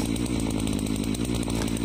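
A 62 cc chainsaw bucking giant ash logs, a loud, close, continuous engine snarl with a rapid pulsing chatter as the chain cuts, running throughout with no voices.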